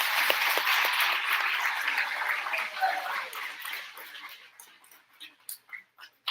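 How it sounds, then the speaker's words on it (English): Applause from a school assembly audience at an awards ceremony, a dense, loud wash of clapping that gradually thins and fades into a few scattered, separate claps near the end. "Give Lorenzo a giant round of applause."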